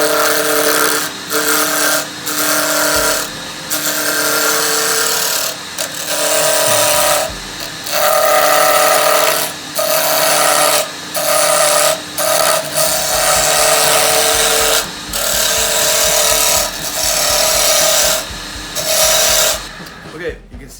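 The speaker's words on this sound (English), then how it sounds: "I'm going to go ahead and go back to my scraper, and then once I get it down, I'll try to do a skew cut." A scraper cuts wood spinning on a lathe while an everyday-carry box is turned. Loud, close cutting and rasping comes in repeated bursts separated by short breaks.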